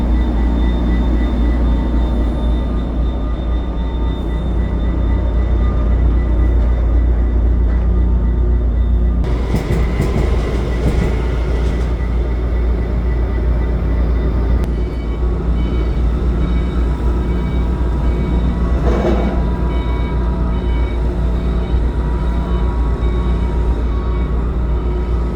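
A GO Transit F59PH locomotive rumbles loud and steady through winter, its deep low drone continuous, with a burst of brighter rattling and clatter around the middle as it passes.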